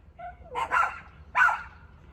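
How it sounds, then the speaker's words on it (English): A dog barks twice nearby, the first bark preceded by a small whine, the second a sharper yelp, fairly loud over a quiet morning background with no talking. "I gotta go shut the dog up."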